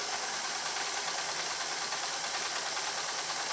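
A sewing machine runs a continuous straight stitch while mending trousers, a steady fast mechanical whir and hum held evenly throughout, close and alone with no talking.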